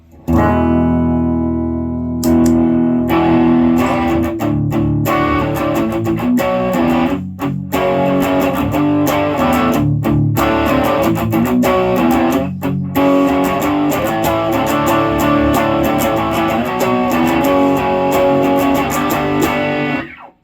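An electric guitar through a cheap $14 overdrive pedal plays chords and riffs with a gritty, crunchy tone, loud and continuous with a few short pauses.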